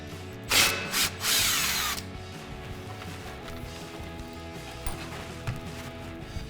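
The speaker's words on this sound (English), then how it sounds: "So we're gonna grab our impact and our 18mm socket and take that nut off." An impact wrench with an 18mm socket rattles off the sway bar link nut on the front strut of a 2005-2010 Mustang: two short, loud bursts near the start, followed by a quiet workshop background.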